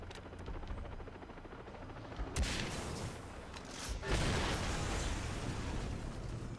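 Gunfire in the Far Cry 3: Blood Dragon video game, loud bursts and pops with a sustained roaring rumble of shots and blasts, no talking.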